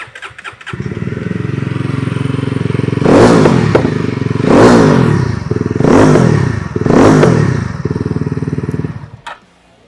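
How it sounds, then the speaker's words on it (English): A 2025 Yezdi Roadster motorcycle, running without dB killers, lets out a loud, close exhaust note. A steady idle rumble is broken by three or four sharp throttle blips that swell and fall before the engine cuts off. "let me also give you a quick sound of what the exhaust sounds like"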